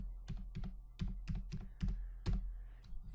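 Typing on a computer keyboard while entering real estate agent contact details into a residential estimate form: about eight close, crisp key clacks in an uneven rhythm, alone, with no talk.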